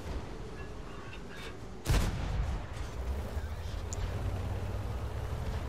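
A tier 7 Sturer Emil tank destroyer in World of Tanks fires its gun once, a sudden loud boom with a rumbling tail over steady engine and battle noise.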